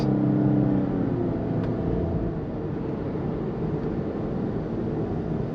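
A 2020 Cadillac CT5-V in V mode accelerates at full throttle, its engine a steady close rumbling roar that holds at a sustained drone with no voices; the exhaust pops are not distinct.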